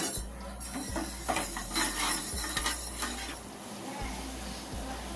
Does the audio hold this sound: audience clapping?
no